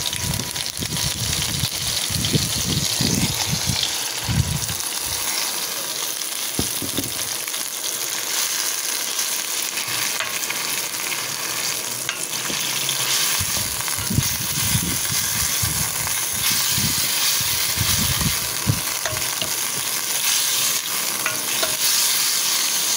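Meat sautés in a hot, smoking pan, a loud, dense sizzle running throughout, broken by rhythmic scraping and stirring strokes in several bursts.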